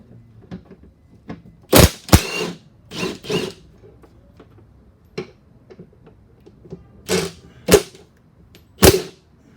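Metallic clicks and clanks from a wrench loosening the 13mm drive shaft bolts under a 2017 Dodge Challenger during a clutch replacement. The sharp close impacts come in irregular pairs and singles with quiet gaps between them.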